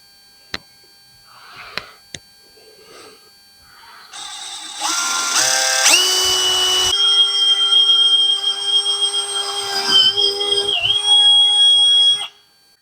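A few light clicks, then a handheld power drill whirs up and bores steadily through a fog light mount in the oil cooler opening for several seconds, its pitch shifting slightly as it bites, before stopping.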